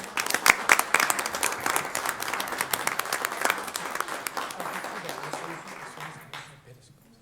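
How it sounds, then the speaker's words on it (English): At a county commissioners court meeting, the audience breaks into sustained applause from many hands, steady and fairly loud for several seconds before tapering off to quiet. "A round of applause for the work they do, please."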